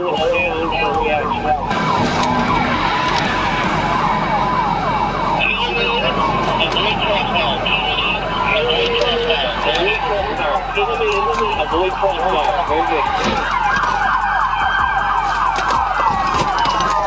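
Police car siren during a chase after an armed robbery vehicle, a loud warbling wail sweeping up and down throughout, over engine roar, with a voice talking over it at times.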